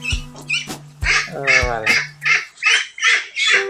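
Ducks being weighed one by one on a scale at a meat-duck farm, 27 days old: several short raspy quacks and squawks near the microphone, with a person talking in between.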